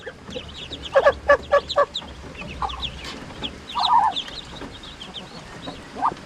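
Ducklings peep and chirp in quick repeated bursts, several calls overlapping at close range, with farmyard clucking mixed in and no talking.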